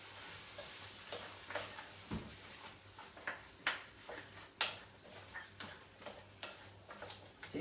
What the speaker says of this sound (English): So you just want to fry it off a bit, get all those flavours happening in it.